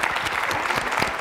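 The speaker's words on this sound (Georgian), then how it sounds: "აპლოდისმენტები ორივე გუნდს." Audience applause for two school teams at a Georgian book quiz contest, a dense steady clatter of many hands clapping close up that fills the whole short moment.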